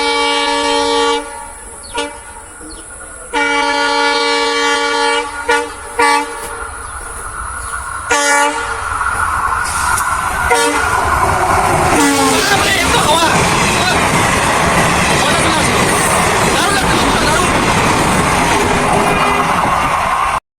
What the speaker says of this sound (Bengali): ট্রেনের আওয়াজ পাচ্ছ?